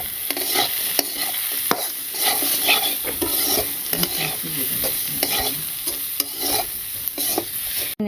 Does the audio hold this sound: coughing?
no